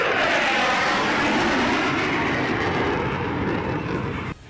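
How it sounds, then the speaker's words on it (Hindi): Jaguar, Sukhoi Su-30 and MiG-29 fighter jets fly over during a military display, making a loud, continuous roar that fills the whole stretch and fades only slightly before cutting off at the end. "आसमान में जगुआर, सुखोई 30 और MiG-29 जैसे लड़ाकू विमानों ने भी उड़ान भरी"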